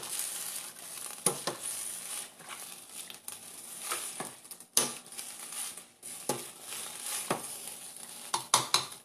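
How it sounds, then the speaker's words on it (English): Spoon stirring less than half a teaspoon of red pepper flakes into a pot of kale and bean soup, steady close scraping and swishing with a faint sizzle beneath and several sharp clinks of metal against the pot. "Mix that all in."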